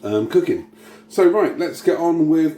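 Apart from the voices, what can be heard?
No everyday noise stands out behind the speech.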